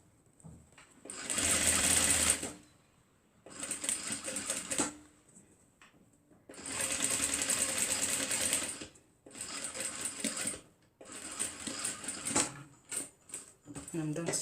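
A sewing machine stitches a fabric face mask in several loud, close bursts of rapid whirring, each running one to three seconds with short pauses between, while a person talks quietly in the gaps.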